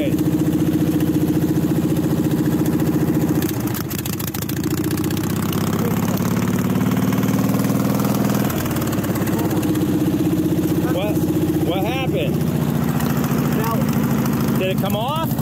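A 30 mph racing lawn mower engine runs steadily and loudly throughout, its drone shifting with the throttle, while people talk and shout over it during a first ride.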